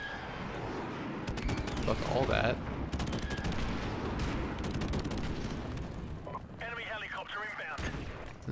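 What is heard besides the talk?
airstrike explosions and gunfire in a video game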